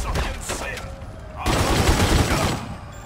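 Gunfire in The Godfather II video game: a dense, loud burst of rapid shots fills the middle of the clip, with lighter scattered shots and background game noise around it.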